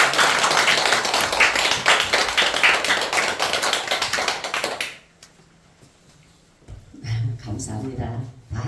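A church congregation claps in welcome as the pastor comes forward at a Mother's/Parents' Day Sunday service, dense loud applause for about five seconds, then a hush before a voice speaks over a soft hum.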